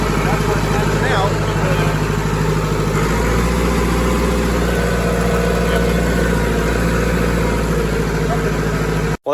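A hay tractor engine idling at roughly 1500 RPM with a loose throttle linkage, a loud steady close drone with a faint uneven pulse, while a person talks over it.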